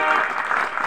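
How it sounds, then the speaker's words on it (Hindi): Audience clapping welcomes an honoured guest at a New Year youth conference reception in Kujba, Khedli Bazar; a dense, steady patter of many hands sounds close and fairly loud throughout the short burst. "तालियों के साथ खूब स्वागत करें"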